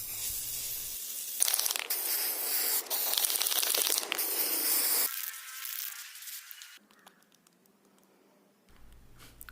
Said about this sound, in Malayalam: നമ്മുടെ അടുത്ത ഷൂവിനെല്ലാം സ്പ്രേ പെയിൻറ്റ് നമ്മൾ സ്പ്രേ ചെയ്തുകൊണ്ടിരിക്കുകയാണ്